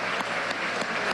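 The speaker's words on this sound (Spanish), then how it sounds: "fuerte el aplauso para el profesor Ignacio Ramonet" A brief burst of steady audience applause for a lecturer at a conference in Venezuela, a dense, even clapping heard throughout at fairly strong volume.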